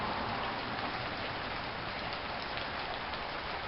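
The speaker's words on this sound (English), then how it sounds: "Man, is it raining out here" Steady rain pours down outdoors on a cold day, a dense continuous hiss close to the microphone with no voices over it.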